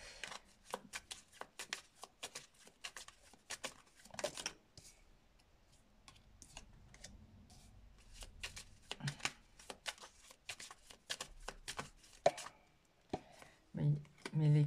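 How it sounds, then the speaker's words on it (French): Tarot cards are shuffled and riffled in repeated crisp bursts of flicking and slapping paper, close and fairly quiet, with a few brief pauses and some soft handling noise between the flurries. "Il y a une envolée de cartes là."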